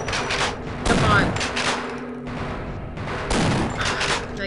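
Gunfire from a weapon in the video game Half-Life: a couple of loud, spaced bursts of shots over a dense game soundscape.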